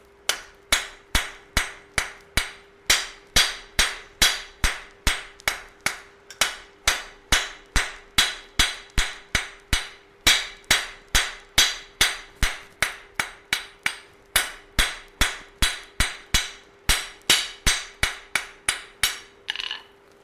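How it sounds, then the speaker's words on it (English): Hammer forging a flint and steel striker at a forge, dozens of sharp ringing metallic blows in a steady, fast rhythm, loud and close, running the full length with brief pauses. "So we're forging a flint and steel striker at the minute."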